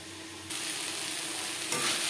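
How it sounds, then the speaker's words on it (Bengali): Snake gourd (chichinga) frying in a pan on a gas stove, a steady close hiss and sizzle that jumps louder after a moment and again near the end, with occasional stirring scrapes. "আরও 4-5 মিনিট বেশ ভালো করে ভেজে নিলাম"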